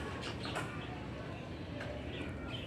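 Pigeons cooing outdoors near a rooftop, soft low calls that are faint and partly buried in steady background noise.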